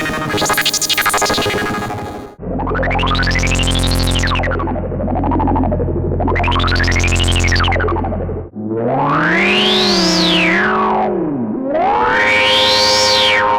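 Moog Grandmother synthesizer patched with a Eurorack modular and run through a high pass filter, loud, buzzy tones sweeping up and down in pitch with warbling, distorted resonance, no voices.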